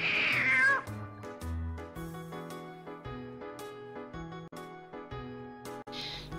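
A cat meows near the start, a rising, wavering cry over a cheerful backing melody of plucked and keyed notes that carries on alone afterward.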